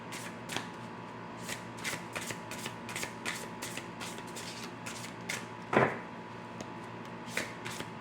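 A deck of oracle cards being shuffled close by in a quiet room, a run of quick, soft riffling flicks with one louder clack near the end and no talking.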